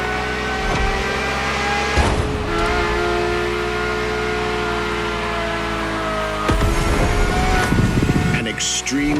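A Ferrari sports car engine drones loudly and continuously as heard from inside the cabin, a steady powerful hum with brief louder surges near the start and again toward the end.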